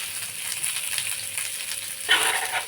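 Food sautés in a pan with a soft, steady sizzle and light stirring, then a brighter burst of frying near the end; no one speaks.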